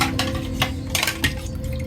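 Water sloshing and clattering inside a food processor being rinsed in a home kitchen, with sharp clinks of the bowl and a steady running wash, close and fairly loud.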